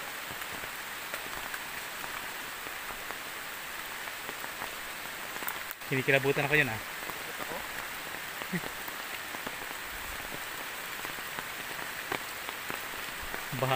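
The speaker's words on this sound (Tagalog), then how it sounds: "Malakas pa rin po ang ulan." Steady rain pours down throughout, a dense hiss of drops on surfaces, with a few brief spoken words partway through.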